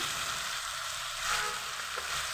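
Mixed vegetables such as spinach, flat beans, eggplant and potato with lentil dumplings sizzle and fry steadily in a pan, a constant close hiss with no talk over it.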